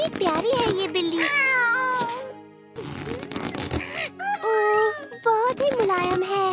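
A cartoon cat in a children's animated show gives several drawn-out, sliding meows, with short gaps between them.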